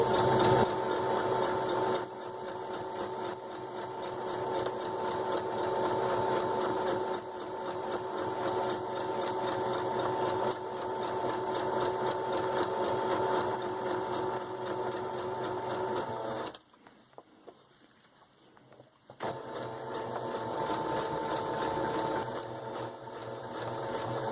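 Sewing machine stitching vintage book page paper hearts into a garland, a steady continuous mechanical whir running almost throughout, with a brief pause near the end before the motor resumes.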